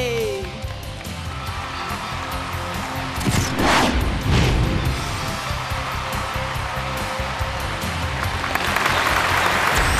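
Studio audience applauding on a Chinese family talent TV show as a Malaysian Chinese family is welcomed onstage, a broad sustained clatter of clapping with crowd noise that swells midway and runs throughout.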